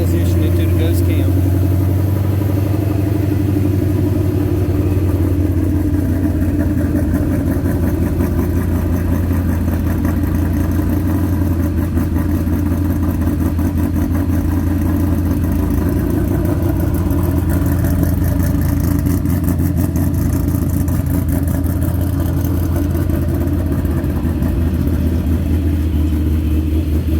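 A supercharged Coyote V8 Mustang with a Ghost Cam tune idles steadily and loudly at close range for the whole stretch. Its deep, lumpy rumble continues without a break.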